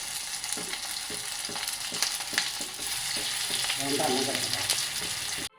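Potato and semolina cutlets fry in a little coconut oil, a dense close sizzle with regular light taps and scrapes of a utensil, growing a bit louder toward the end before cutting off.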